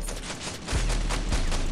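Heavy rifle firing in the mobile shooter Pixel Strike 3D, sounding as a dense, loud burst of rapid shots with a couple of heavier booming reports, no talk over it.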